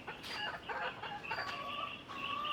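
Chickens cluck and squawk softly at close range, a few overlapping calls over faint background noise.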